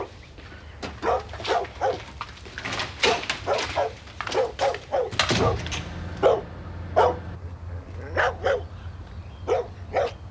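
A dog locked inside a house barks repeatedly in sharp, loud bursts mixed with whimpers and yips, an agitated irregular rhythm close by, with no speech over it.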